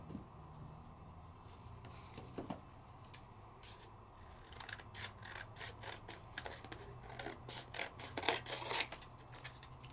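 Scissors cutting paper in a scrapbooking craft session: quiet snipping that starts sparse, then builds into a rapid run of closely spaced cuts over a low background hum, with no talking.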